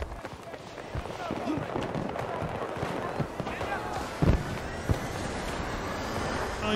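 Battlefield 2042 gameplay with a thrown grenade going off: a sharp, heavy blast stands out near the four-second mark amid gusty wind-like game noise and scattered thumps, with a few smaller bangs around it.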